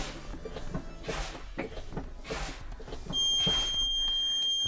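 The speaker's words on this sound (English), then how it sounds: "a light and buzzer should go off indicating low pressure." A truck's steady low air pressure warning buzzer comes on partway through and holds continuously over a rumbling engine and clanking background noise.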